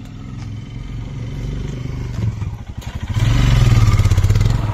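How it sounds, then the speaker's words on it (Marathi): A rented Royal Enfield Himalayan motorcycle runs close by with a loud, thumping single-cylinder idle. It revs briefly and settles back, then swells into a heavier, steady throb, with some clatter and no talk. "सो गाईज हां रॉयल एनफील्ड आपण हिमालयन घेतला आहे रेंटवर. सो बाईकची कंडिशन पाहून घ्या पूर्ण प्रॉपर."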